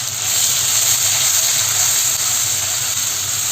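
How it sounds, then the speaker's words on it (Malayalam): Crushed ginger, garlic, green chili and fennel sautéing in hot oil for a Kerala-style chicken roast give off a steady, even sizzle and hiss that holds at moderate loudness throughout, with no talking. "ഇത് എണ്ണയിൽ കിടന്നിട്ട് നന്നായിട്ടൊന്ന് മൂത്ത് വരണം"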